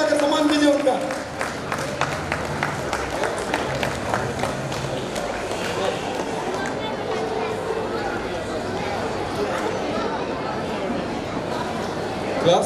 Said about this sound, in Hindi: ताली बजाकर सम्मान कीजिए उनका